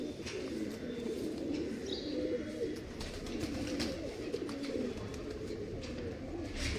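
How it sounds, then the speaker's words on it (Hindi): Pigeons in a loft cooing softly over a steady murmur of ambient noise, the low throaty coos continuous and moderately close, with a few faint chirps in the background. "तो ये है कबूतर"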